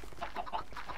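Chickens in the video game Minecraft cluck in a quick, close series of short, choppy calls over a faint background.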